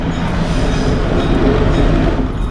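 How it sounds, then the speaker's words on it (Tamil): A train passes close by a railway crossing in a Sri Lankan hill-station area, a loud continuous rumble and clatter of wheels on rails with no talking. "சோ गाइस இதுதான் இந்த ஒரு ட்ரெயின்."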